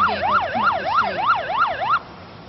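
Emergency vehicle siren wailing in a steady, repeating up-and-down sweep, loud and fairly close on a city street as a police escort approaches Nebraska Medical Center, then cutting off abruptly near the end over low traffic rumble.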